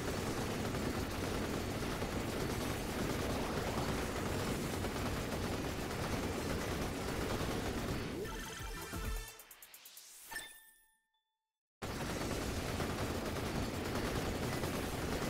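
Dense, continuous shooting and shattering effects fill the Vampire Survivors game as a fire wand fires, a loud unbroken barrage that thins out, sweeps away and briefly cuts to silence before the noise returns.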